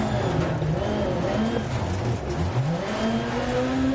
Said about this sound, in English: I like the fact that the engine sounds different from the different views